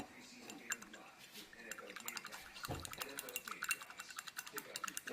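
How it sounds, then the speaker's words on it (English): A slime mixture being stirred by hand, making soft, wet, squishy clicks and drips in a quick irregular rhythm, close and fairly quiet. "I need to stir it up."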